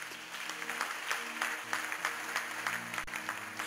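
A church congregation applauds during a French-language sermon, steady rhythmic clapping running throughout with a low musical drone underneath, moderately loud and sustained.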